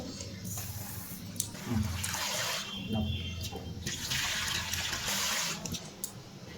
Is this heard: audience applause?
no